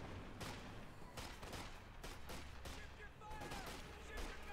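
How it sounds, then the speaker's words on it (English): Stuka rocket bombardment in the Company of Heroes 2 strategy game, a faint rolling barrage of rapid explosive bursts and gunfire layered under a low continuous rumble of battle. "Stukas was there, waiting the right target to bombard with its rockets."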